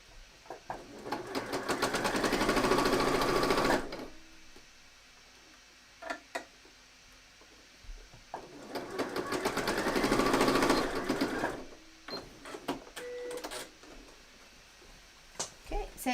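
A sewing machine runs in two long bursts while setting a sleeve into a bomber jacket, with quieter clicks and handling noises between runs and a person talking during the pauses.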